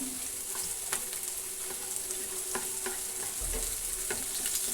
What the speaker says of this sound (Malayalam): ഇതിൽ ഈ നെയ്യിൽ വയറ്റിയെടുക്കാൻ പോവുകയാണ്